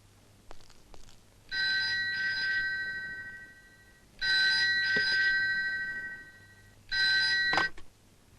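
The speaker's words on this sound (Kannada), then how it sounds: "ಫೋನ್ ಬಂದಿದೆಯಪ್ಪ" A telephone rings in three long bursts separated by pauses, bright and steady against a quiet room, in a scene from a Kannada film.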